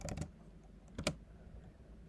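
Keys tapped on a computer keyboard in a few short bursts, first a quick cluster of strokes, then another pair about a second later, close and fairly quiet against a low room hum.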